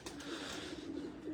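Pipal pigeons in a Faisalabad loft coo steadily in a low, continuous murmur that fills the whole moment, with no talking over it.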